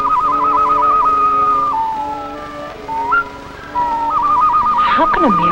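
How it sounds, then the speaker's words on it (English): A long, sustained whistling call attributed to a bird rises and falls in pitch, loud and clear, with trilling wavering passages and a short pause midway before it resumes. "How can a mere bird make such a sound?"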